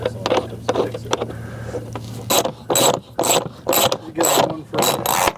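A clamping ring on a pool filter is tightened with a rhythmic series of rasping ratchet clicks, several short bursts at a steady pace, close and clear, with faint low hum at the start.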